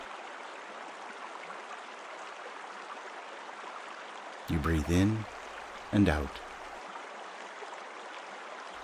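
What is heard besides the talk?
river water bubbling and churning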